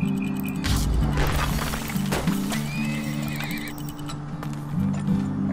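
A horse whinnies and neighs amid clip-clopping hooves in the game Turmoil, with steady background game music and a brief crash; no one speaks.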